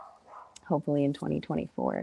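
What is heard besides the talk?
dogs barking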